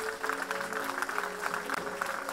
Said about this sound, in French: Nous donnons une méga acclamation au Seigneur.